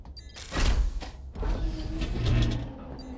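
Door being pulled open on a buckled frame, a scraping mechanical rush with a sharp clunk followed by a long grinding slide, fairly loud and close with no voices.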